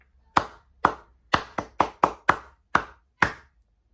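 Nine sharp hand claps spaced in an uneven rhythmic pattern during rhythmic dictation practice, each crisp and close with a short decay, heard alone with no talking.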